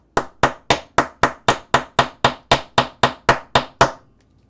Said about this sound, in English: Tiny hammer time.